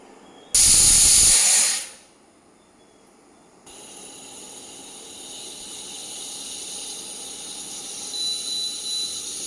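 A pressure cooker full of venn pongal lets out one loud, close burst of hissing steam from its whistle, which cuts off after about a second and leaves a softer, steady hiss that builds slowly.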